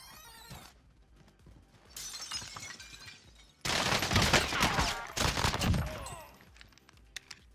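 Rapid gunfire from Sykov akimbo pistols in Warzone, with bursts of quick shots and sharp impact and shattering effects, loudest in the middle of the clip before tapering off.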